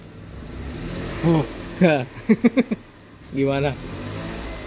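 A Toyota Raize with a turbo engine gives a quick series of short revving blips, close by, while people talk around it.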